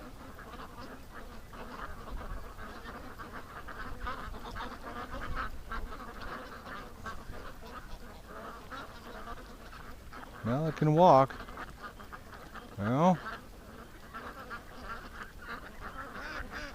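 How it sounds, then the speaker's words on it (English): A small duck with a hip problem gives two short bursts of quacking, fairly close, amid background murmur, and someone speaks briefly. "Oh, there's that little duck that has the hip problem."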